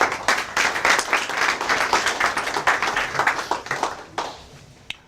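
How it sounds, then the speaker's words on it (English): Audience applause welcoming speaker Dr. Eugene Dubossarsky at a talk, a moderate crowd clapping steadily before thinning out to a few scattered claps and a final lone clap. "please, with big round of applause, please welcome Eugene."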